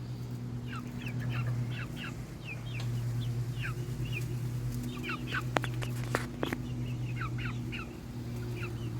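Chickens cluck and chirp in scattered short calls over a steady low mechanical hum, with a few sharp clicks.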